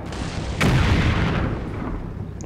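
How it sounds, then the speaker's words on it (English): A tank cannon fires in the Combat Mission: Red Thunder war game, a single heavy boom that hits hard and then rolls off into a long, rumbling decay. "The tank is firing back, so we might or might not be in trouble here"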